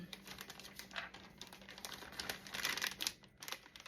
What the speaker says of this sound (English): We're going to cut it a little bit, just like that, so we can put our piping tip on it.